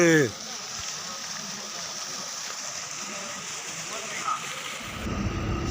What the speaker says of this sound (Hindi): ये पानी नूरी टॉप से आता है